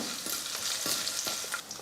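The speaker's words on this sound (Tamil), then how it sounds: "இது எல்லாம் சேர்த்து நல்லா வறுத்துக்கலாம்" Dried red chillies and crushed garlic frying in a pan, a steady close sizzle with scattered crackles and stirring scrapes throughout, no voices.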